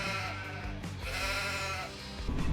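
Sheep and lambs bleat in a pen in Farming Simulator 25, a loud, continuous chorus of overlapping wavering calls close by.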